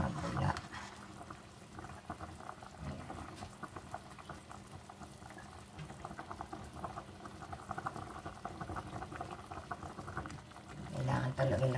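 Chicken tinola broth boiling in a pot with papaya, a steady low bubbling simmer running throughout at moderate level, with no talking over it.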